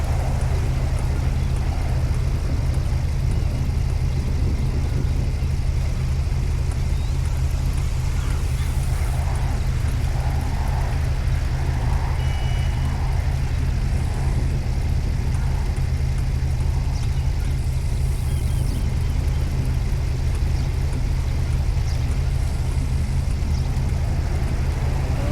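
A parked vehicle left with its engine running at a roadside traffic stop: a steady low engine drone and rumble continues without a break, with faint distant sounds above it.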